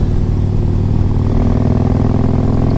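A 2005 Harley-Davidson Electra Glide Classic with a 1550 big bore kit cruises along, its engine giving a steady, close, loud throbbing rumble with no break.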